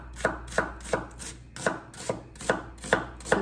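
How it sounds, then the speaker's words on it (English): A knife slicing two onions on a cutting board in a home kitchen, with steady evenly spaced chops, about three per second, close and crisp, with no talking. "We'll begin with 2 onions and I'm just gonna slice them"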